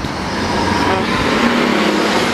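Loud, continuous road traffic at a bus stop, with heavy engines and tyres rumbling close by and a bus passing, forming a dense, steady roar throughout.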